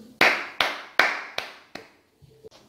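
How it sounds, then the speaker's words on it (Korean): Five sharp, separate hand claps ring out close by at an even pace, each with a short echo, and they grow slightly weaker toward the end. A brief faint sound follows the last clap. "박수!"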